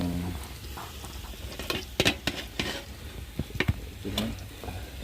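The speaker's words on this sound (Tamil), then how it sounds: "வெங்காயத்தை இந்த அளவுக்கு கொஞ்சமாக வறுக்கணும்" Onions frying in a pan, a soft sizzle under repeated scraping and stirring strokes from a utensil, with uneven clustered bursts of clatter, close by and with no talk.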